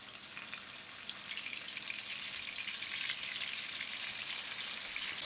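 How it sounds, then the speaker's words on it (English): Fish shallow frying in mustard oil in a frying pan, a steady bright sizzle that builds slightly and holds, close and alone without talk. "Now we will shallow fry the fish for 2 minutes on each side."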